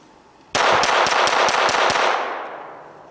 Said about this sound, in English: We're gonna shoot it, see if we can create a malfunction with the gun